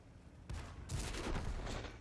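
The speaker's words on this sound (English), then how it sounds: "He missed an easy shot." A tank gun fires in World of Tanks on the Prokhorovka map, giving a sudden heavy boom followed by a second blast and rumbling tail, loud and close with no talk.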